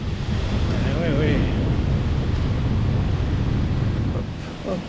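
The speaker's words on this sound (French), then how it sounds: "Et c'est encore un torrent, un beau torrent." A mountain torrent in Switzerland rushes steadily: a loud, continuous broadband roar of water, mixed with wind buffeting the microphone.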